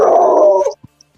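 A dog gives a single short, loud bark or growl-like vocalization up close, followed by brief silence with faint small sounds.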